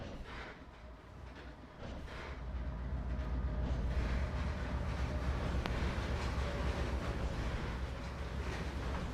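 Simulated train rolling on rails in the Trainz game, on Scratchy's Soldier Summit route during a descent, a steady loud rumble of wheels and cars that builds after the first couple of seconds and holds continuously with no talk.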